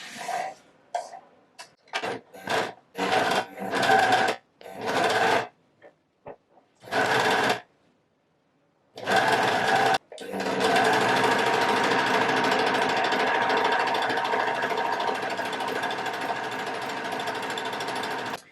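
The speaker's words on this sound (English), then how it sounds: "I'm just going to sew starting at the seam, and I'm going to use this piece as a guide" An Empisal sewing machine sews a polo neck seam, starting with short stop-start bursts of loud close stitching, then running in one long steady rapid run.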